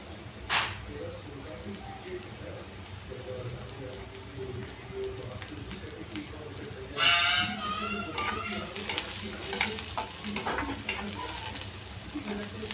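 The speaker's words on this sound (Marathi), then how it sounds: "त्यात आता आपल्याला टाकायची आहे हिरवी मिरची।" Onion and green chili sizzle steadily in a hot pan, with a loud burst of frying as the chilies go in and scraping stir strokes, while someone talks over the cooking throughout.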